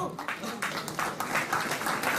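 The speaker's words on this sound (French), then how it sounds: "bravo à eux, on peut les applaudir" A modest audience at a Top 12 rugby awards ceremony gives a scattered round of applause with uneven claps, while a voice talks over it.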